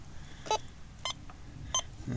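Three short electronic beeps from a metal detector spaced about half a second apart, fairly faint over a low background hum, while coin hunting in Nevada.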